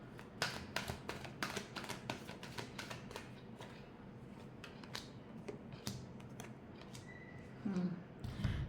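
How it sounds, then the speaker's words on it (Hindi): Tarot cards are shuffled close by in quiet, rapid riffling bursts of sharp papery taps, ending with a few soft knocks. "Last shuffle."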